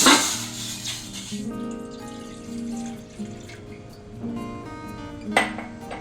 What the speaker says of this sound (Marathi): गॅसवर ही स्टीलची कढई ठेवलेली आहे आणि त्याच्यामध्ये हे पाणी घालते.